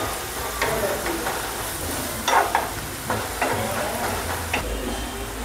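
Cumin seeds sizzle in hot oil while masala pav is cooked, a steady frying hiss broken by a few short crackling pops and some stirring.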